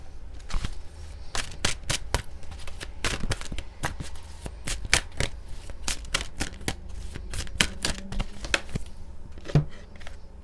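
Tarot cards shuffled and drawn from a deck, a dense run of crisp riffling snaps and flicks close by, steady throughout with a few louder slaps.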